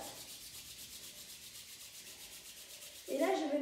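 Palms rub back and forth in steady rhythmic strokes during a qi gong routine, a soft close swishing that grows louder and fuller near the end.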